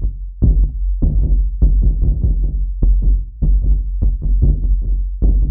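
Short, punchy low tribal punk folk drum samples repeat in a quick, uneven pattern, each one fully choked at the next sub-step, with no ringing tails.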